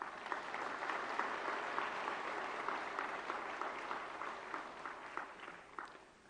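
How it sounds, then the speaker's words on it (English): An audience at a formal Asia Pacific Forum meeting gives a sustained round of applause to welcome the President of India, with dense, steady clapping that fades slightly toward the end. "May I request all of you to welcome the President of India with a round of applause."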